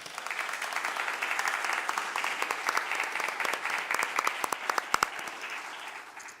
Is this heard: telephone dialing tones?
no